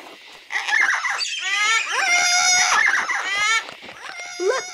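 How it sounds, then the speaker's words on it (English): Wild yellow-crested cockatoos screeching loudly and close, harsh raspy squawks overlapping in bursts with brief pauses between calls. "Does that sound like the screeching of wild cockatoos?"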